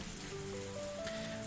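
A heavy rain downpour in the Higurashi visual novel hisses steadily as a dense, even wash of drops, with faint tonal notes rising underneath.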